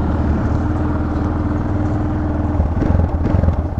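A Yamaha XT660 single-cylinder motorcycle engine runs close by with a loud, steady low throb. Near the end it rises into a rougher, pulsing note.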